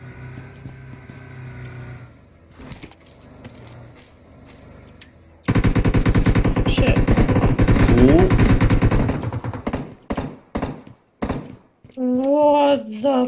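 Gunfire bursts from an AKM-style rifle in PUBG Mobile, a loud dense spray of rapid shots after a quieter stretch, followed by scattered single cracks and a voice talking over the end.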